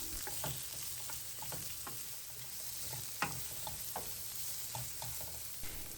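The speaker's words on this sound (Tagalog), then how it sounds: "Isutay lang natin to ng mga about 2 minutes hanggang sa mag-moist ang texture nito." White onion, one large, sautéing in a pan, a steady sizzle with scattered clicks and taps of stirring throughout, fairly close and alone without talk.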